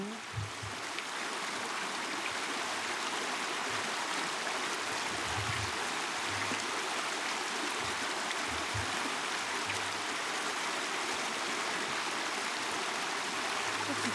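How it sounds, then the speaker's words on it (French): A woodland stream with small cascades rushes in a steady, unbroken wash of water noise for the whole stretch, outdoors near St Florent des Bois, with occasional faint low knocks underneath. "L'eau, les cascades, les cascatelles. Le vent dans les feuilles. Les oiseaux."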